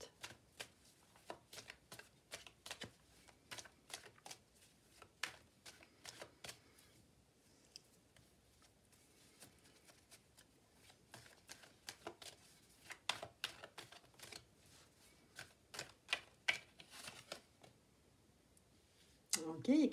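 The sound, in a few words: shuffling and drawing cards for a three-card reading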